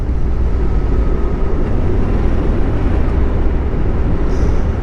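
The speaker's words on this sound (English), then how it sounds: "it's a very characteristic sound on the V4, a long pedigree" A V4 motorcycle's engine and exhaust while riding an evening road toward Cheddar Gorge, a dense steady rumble mixed with wind noise, loud and continuous with no voices.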